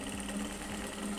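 Sewing machine running continuously and steadily as it stitches a seam on an old jacket being remade, a close whirring hum with no talk.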